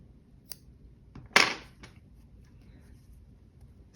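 Scissors snipping orange yarn while finishing a crocheted pumpkin: one crisp, close cut with a few faint clicks before and after, in an otherwise quiet room.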